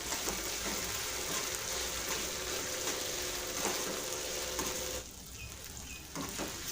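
Finely chopped capsicum hits a hot pan of cooked tomatoes for Schezwan fried rice, giving a steady close sizzle that runs on, then drops quieter near the end with a few soft scrapes.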